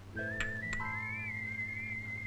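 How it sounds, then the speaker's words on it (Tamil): A single person whistles a sustained, wavering melodic tune, clear and close, with a steady low hum underneath and no talking. "மாப்பிள்ள நீங்க விசில் அடிச்சுதான் ஆகணும்"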